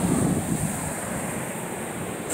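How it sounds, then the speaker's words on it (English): Atlantic Ocean waves wash near a dock, a steady hiss of surf mixed with wind buffeting the microphone, with no voices present. "I'm out here by the sea, the mighty Atlantic"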